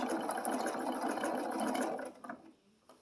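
A sewing machine running a blanket stitch around an appliqué on a quilted table runner, a fast steady whir that stops near the end, followed by a couple of faint clicks.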